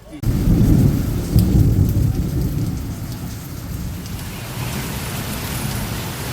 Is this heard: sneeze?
no